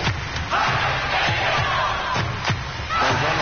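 A football crowd at a Magpies match cheers and shouts in a loud, steady roar, with repeated thuds and bursts of raised voices rising over the din.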